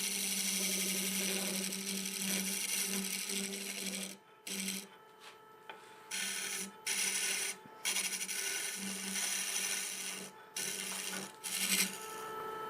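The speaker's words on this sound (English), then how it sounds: "I'm going to blend it with the negative rake scraper" A wood lathe turns a segmented wood piece against a negative rake scraper, giving a continuous rasping, scraping hum with a steady motor tone underneath. The cutting breaks off into several short pauses as the tool lifts and reengages.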